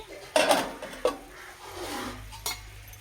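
Liver pieces and turmeric being stirred in a pan, with a few clinking spoon knocks against the metal followed by soft scraping and rubbing, close and fairly quiet.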